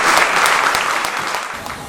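Applause from a crowd at a local event: a continuous wash of many hands clapping, moderately loud and close, filling the short stretch with no talk.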